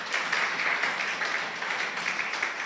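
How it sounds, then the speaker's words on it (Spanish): A church congregation applauds the Lord during a service, a continuous, even roar of many hands clapping at moderate distance. "Denle un aplauso al Señor."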